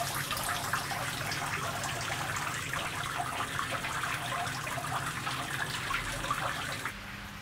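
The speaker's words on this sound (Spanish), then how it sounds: "Ahora cae el agua más pausada, hay menos agua." Water falls into a well sculpture by Cristina Iglesias in a steady splashing gush, close and continuous, thinning slightly toward the end as the flow eases.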